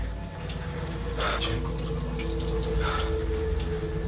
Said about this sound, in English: Water's running in the kitchen.